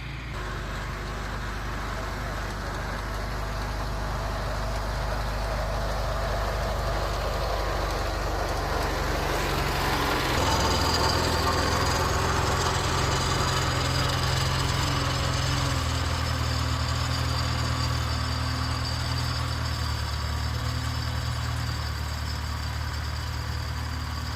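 A small Cub farm tractor engine runs steadily throughout while laying off garden rows, a low rumbling drone that grows a bit louder and fuller partway through, with no talking.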